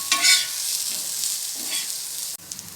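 Elephant foot yam pieces sizzle steadily in a frying pan, with a burst of scraping and clatter near the start as they are turned, then a continuous close crackle of oil with no voices.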